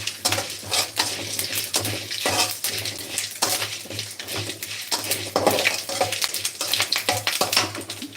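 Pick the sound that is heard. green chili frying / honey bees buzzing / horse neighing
green chili frying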